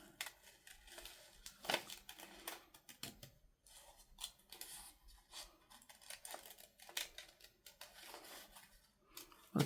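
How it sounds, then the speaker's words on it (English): Scissors snip through paper to trim an envelope pocket for a junk journal, a series of quiet, close cuts in short bursts with brief pauses between them and no talking. "So let me see if I can just kind of give it a quick little cut around."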